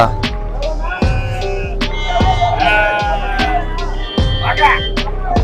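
Goats and young kids bleating at the large Kunnathur goat market, with several wavering calls across a busy background of crowd chatter and market noise.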